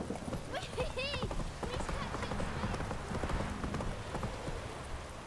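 Roach the horse gallops through rain puddles in The Witcher 3. A steady, rhythmic clip-clop of hooves splashes along close by, with brief voice sounds over it.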